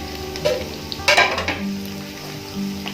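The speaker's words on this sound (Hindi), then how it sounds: "अब मैं इसके अंदर यखनी ऐड कर दूंगी" Yakhni stock goes into a pot of mutton and potatoes frying in oil: a soft steady sizzle, then a brief louder splash and hiss of liquid hitting the hot pan, settling back to a gentle bubbling fry.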